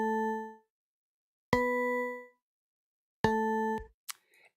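Three synthesized bell notes made in LMMS and transposed down to A3 ring out one after another, each a clear bright strike that decays, followed by a short higher blip.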